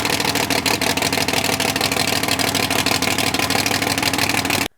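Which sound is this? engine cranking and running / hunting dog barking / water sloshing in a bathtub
engine cranking and running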